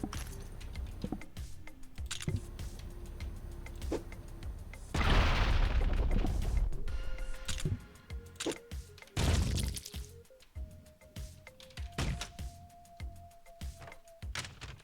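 Explosion in the video game Streets of Rogue: a broad, roaring blast bursts out partway through and rumbles for a few seconds, followed by another burst and scattered sharp cracks and game tones.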